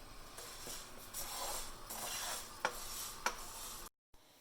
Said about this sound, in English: we're going to also stir occasionally